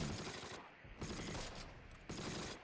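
Grenades and gunfire in the WWII video game Close Combat at the Brevands bridge, a dense, continuous rumble of blasts and shots with a few sharper bursts standing out, loud and sustained throughout.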